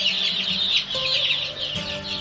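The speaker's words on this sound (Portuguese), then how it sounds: "Ela costuma cacarejar quando está de bom humor." A hen clucks close by in a short series of bright, throaty calls over roughly two seconds, alone with no talking.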